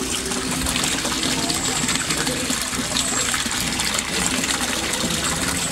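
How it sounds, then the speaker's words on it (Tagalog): A Resun aerator pump drives a strong, continuous churn of bubbles through koi pond water, a loud, even gushing hiss that fills the whole stretch without a break. "Sa sobrang lakas niya, ang daming bubbles na na-produce niya or na-create niya."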